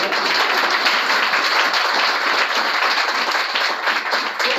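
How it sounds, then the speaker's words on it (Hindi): An audience claps together at a motivational talk, a dense, even wash of applause that carries steadily for several seconds without voices. "ताली बजाओ"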